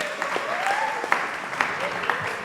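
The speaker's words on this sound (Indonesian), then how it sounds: "Kasih tepuk tangan dulu dong untuk Aksor." An audience claps steadily at an Indonesian psychology evaluation and success-story session, with a voice speaking over the applause throughout.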